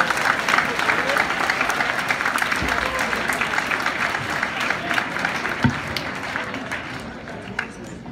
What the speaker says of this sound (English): Please welcome Deb with a round of applause.